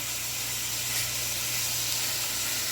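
Meat steadily searing in a hot pan while building a crust alongside broccoli for dinner: a continuous, even hiss and sizzle, moderately loud and close, with no talk over it.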